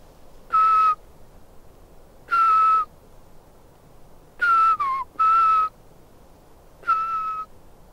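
A person whistles an imitation of a Eurasian pygmy owl call outdoors in autumn mountains: five clear, steady whistled notes spaced a couple of seconds apart, one sliding downward, standing alone over quiet background.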